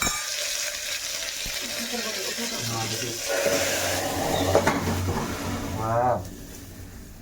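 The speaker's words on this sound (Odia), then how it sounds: "ମସ୍ତ ଭାବେ ଛୁଙ୍କ ଦେଇଦେଲେ" Curry leaves and a tempering hitting hot oil for an Odia dalma-style dish, giving a bright continuous sizzle and frying crackle with stirring, while a person talks over it.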